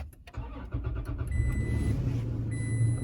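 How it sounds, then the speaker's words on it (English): A Toyota Tacoma pickup's engine cranks and catches after a few quick clicks, then settles into a steady close idle hum with a faint high whine above it. "let me just turn the engine on and show you."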